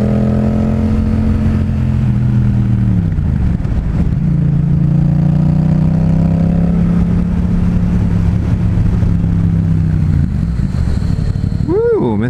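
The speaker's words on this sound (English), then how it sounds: "Whoa, that engine braked out." Riding a 2016 Yamaha FZ-07 with a Two Brothers full exhaust, the engine drones loudly under steady wind rush, dropping in pitch through a downshift and engine braking, then climbing again in a quick rev near the end.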